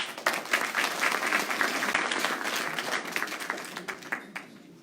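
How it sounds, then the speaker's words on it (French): Audience applause fills a conference hall at a psychic fair, a dense steady clatter of many hands that holds loud throughout and then thins slightly toward the end, with no talk over it. "Alors on applaudit, bravo."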